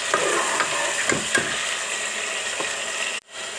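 Tomatoes being stirred into a pumpkin curry in a pan, a steady close sizzle of frying with a few scraping spoon strokes against the pan, cut off abruptly near the end.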